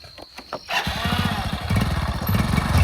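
A motorcycle engine turns over and catches after a brief quiet start, then runs steadily with a loud, close, pulsing idle that rises slightly in intensity.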